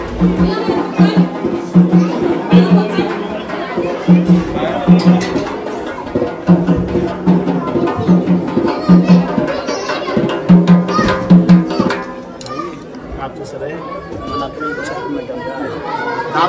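A dense crowd inside a temple at Lonavla, with overlapping adult and children's voices chattering continuously all around, close and loud, and a rhythmic low thumping underneath.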